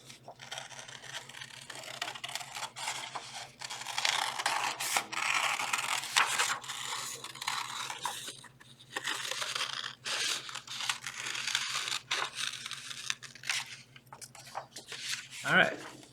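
Scissors cut out paper close by, crisp snipping and crinkling in irregular bursts over a faint low hum, with brief pauses between cuts.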